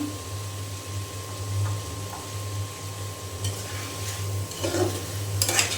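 Potatoes are stir-fried in a cooked onion spice paste, with a low steady sizzle and a constant hum, while occasional scrapes and clinks of a spoon in the pan grow busier toward the end.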